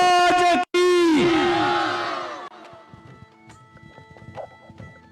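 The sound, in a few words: crowd chanting slogan in response at political rally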